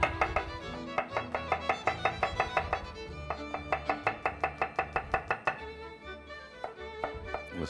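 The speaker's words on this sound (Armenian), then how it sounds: "Սխտորը կտրատենք մանր։" Garlic being finely chopped with a knife on a board for an ajapsandal-style dish, a rapid run of sharp, steady knife strikes close by with brief pauses between bursts, no talking.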